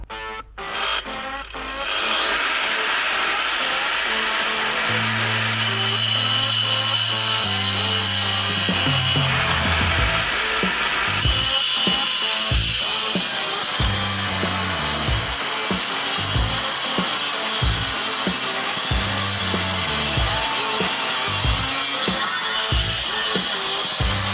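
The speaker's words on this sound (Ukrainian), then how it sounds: "давайте попробуємо, як болгарка справляється з бетоном, е, з гранітною крошкою" An angle grinder grinds harshly and continuously through concrete with granite chips, loud and close, its pitch shifting as the blade bites and eases.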